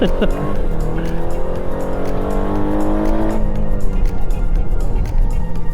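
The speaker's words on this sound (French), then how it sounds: "le plus gros fun, évidemment, c'est d'accélérer en sortie de virage et de sentir un peu l'arrière cherche à se dérober, comme ici" A 2025 Aston Martin Vantage accelerates hard out of a corner, its loud engine note climbing steadily in pitch for about three seconds before easing off, with a possible faint tyre squeal.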